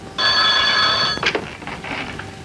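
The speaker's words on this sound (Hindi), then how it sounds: "हेलो जी, एक मिनट, उसी का फोन है" A telephone rings once with a bright electronic trill, followed by a short clatter, likely the receiver being picked up, fairly close by.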